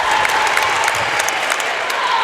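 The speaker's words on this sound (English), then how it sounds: "As you hear the crowd getting behind their Lady Bulldogs here" Crowd cheering and applauding for the home Lady Bulldogs at a girls' basketball game, a dense steady roar of clapping and voices filling the gym without letup.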